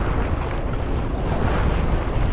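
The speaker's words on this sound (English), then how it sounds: "That's a boat wake to show you how flat it is" Boat wake waves wash steadily onto a barnacle-encrusted rock ledge near Sydney on a calm winter day, a continuous close hiss and slosh of water mixed with wind buffeting the microphone.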